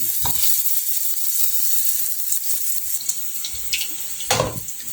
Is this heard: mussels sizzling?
yes